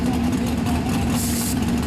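A mud race truck sits idling with a steady, loud, low rumbling drone and a faint higher whine, close by at an outdoor off-road facility, unbroken throughout.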